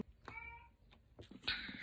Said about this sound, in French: si vous entendez miauler, c'est mon chat